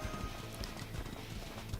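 Galloping hooves of a camel in the Fate/Grand Order video game, a steady rapid clip-clop rhythm running throughout at moderate distance beneath faint background game music.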